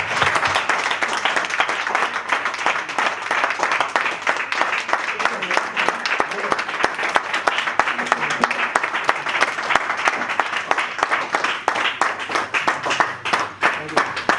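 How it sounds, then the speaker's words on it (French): A crowd at a press conference in Paris applauds with sustained, dense clapping that stays loud and even throughout, with voices faintly mixed in. "Est-ce qu'il serait d'abord possible d'avoir un tonnerre d'applaudissements pour elle"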